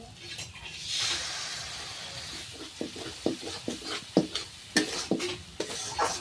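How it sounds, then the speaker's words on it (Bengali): Tender coconut paste frying in a pan with ginger and spices, a steady sizzle under repeated stirring and scraping strokes, with sharper clinks of the spoon against the pan growing more frequent toward the end. "পেস্টটা দিয়ে আমি হালকা ভেজে সেগুলি দিয়ে কষিয়ে আমি দিয়ে দেবো।"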